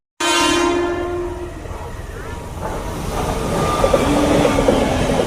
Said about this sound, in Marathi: माझ्या आता ट्रेन आली आहे